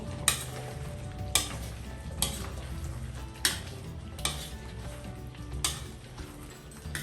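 Hotdogs sizzling in a pan for chicken afritada, stirred with a utensil: a continuous fry hiss broken by sharp, regular scraping clacks against the pan roughly every second.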